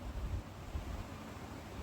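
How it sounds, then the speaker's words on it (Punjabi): A fast-flowing river rushes on a pilgrimage route toward Hemkund Sahib, a faint, steady broadband roar with slight wind buffeting and no voices. "ਪਾਣੀ ਦਾ ਵਹਾਅ ਕਿੰਨਾ ਤੇਜ਼ ਆ ਦੇਖੋ"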